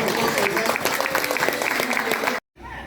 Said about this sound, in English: Please let me have a round of applause